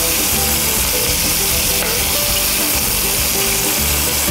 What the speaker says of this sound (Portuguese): a gente termina de dourar o fígado com tomilho.